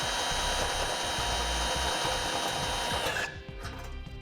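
A drill bores slowly through a hardened metal bumper while a base plate kit is fitted to a 2014 vehicle, a loud steady whine for about three seconds that winds down sharply near the end, with no talking.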